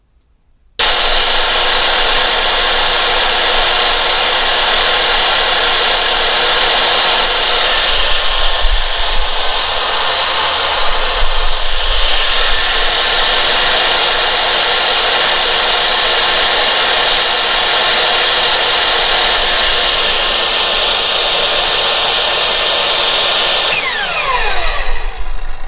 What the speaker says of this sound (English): Next up, we've got a table saw.